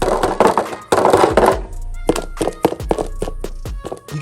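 Several hollow plastic thunks and knocks come from tapping the body shell of an Arrma Kraton RC car, a dense cluster first and then a run of separate taps close up.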